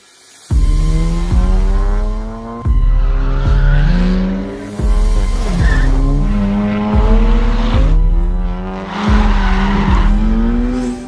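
A tuned 2018 VW Arteon making 483 PS and 600 Nm accelerates hard on a test drive. Its loud engine climbs in pitch through several gears with sharp breaks at each shift, and tire squeal runs underneath.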